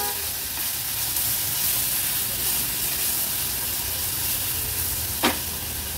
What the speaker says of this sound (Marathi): वाटण तेलावर थोडंसं परतून घ्यायचंय